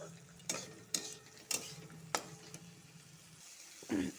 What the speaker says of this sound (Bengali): আবার ভালো করে ভাজবো